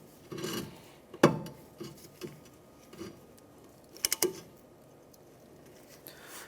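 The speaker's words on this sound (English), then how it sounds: "let's compress our piston." Rear brake caliper piston being compressed on a 2011-2017 Honda Odyssey with the bleeder open: sparse raspy scraping and rubbing, a sharp knock early on and a quick cluster of clicks later, close and fairly quiet, no talk.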